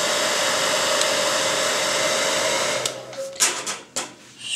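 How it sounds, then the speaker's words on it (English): A hair dryer blows with a steady whirring hiss for several seconds, then cuts off, leaving a few soft knocks and handling sounds. "I will use my hairdryer"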